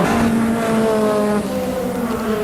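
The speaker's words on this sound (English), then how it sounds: "It sounds like a bit of a miss there. It's not firing like it should." A Volkswagen Cup race car engine running rough with a misfire, a loud uneven drone with a stumbling tone that drops in pitch midway, heard close and alone.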